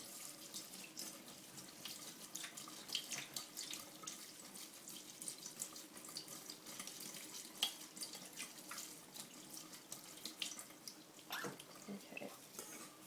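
Filtered tap water runs steadily into a sink as rice is rinsed under it, a soft continuous splashing stream at moderate distance with small clinks and swishes of grains and bowl, no voices.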